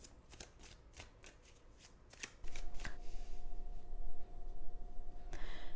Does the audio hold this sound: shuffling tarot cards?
yes